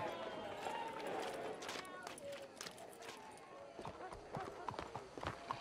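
Hooves clip-clop in a quick rhythmic gait among Red Dead Redemption 2 game sound effects, with voices and crowd murmur mixed in.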